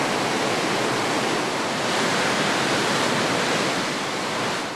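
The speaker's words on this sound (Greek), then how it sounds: "είναι η πρώτη φορά που υπερχείλιζε το φράγμα" Water pours over the spillway of the Aposelemis dam in Crete in its first-ever overflow, a loud, steady, broadband roar of rushing water that fills the whole clip without letup.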